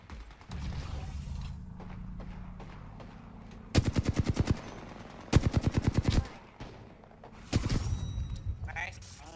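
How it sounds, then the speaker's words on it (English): Gunfire in the video game Apex Legends: three loud, close bursts of rapid automatic fire, each a second or so long, separated by pauses filled with mechanical game sounds and a person speaking. "Firing. They spotted me. I'm taking shots."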